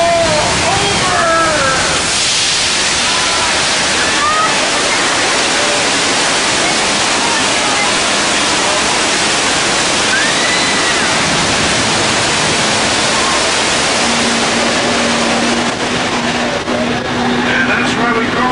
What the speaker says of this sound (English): The water mains are broken.